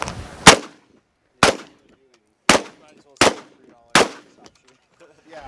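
Gunfire at a multigun shooting match: five loud, sharp single shots spaced about a second apart, each with a short echoing decay, heard alone in the open.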